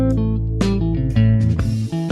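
Electric guitar with effects picks out chord tones over an A vamp, sustained notes ringing on top of a steady, full backing drone, loud and continuous with no talking.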